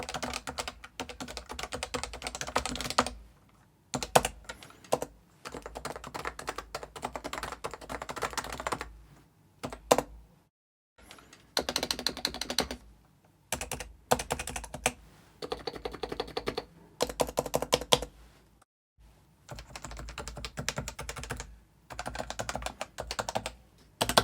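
Typing on Topre Realforce R2 and R3 capacitive keyboards, the R2 standard and the R3 silent type: dense, rapid bursts of soft thocking keystrokes in runs separated by brief pauses, close and moderately quiet.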